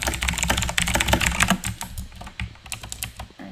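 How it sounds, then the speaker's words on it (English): A loud computer keyboard clacks under fast, continuous typing, dense rapid keystrokes close to the mic with no talk over them. "I hope you like my loud keyboard"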